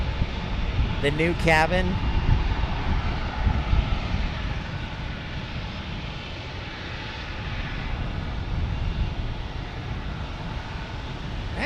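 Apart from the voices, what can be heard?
American Airlines Boeing 787-9P taking off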